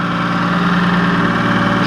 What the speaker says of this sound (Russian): Сварен жирнейший выхлоп с выходом гейта.